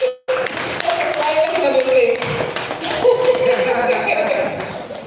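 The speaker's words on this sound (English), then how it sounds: "Please give a round of applause for Empress." An audience applauds at a talk, with a burst of dense clapping that sustains for several seconds and mingles with a few voices and light laughter.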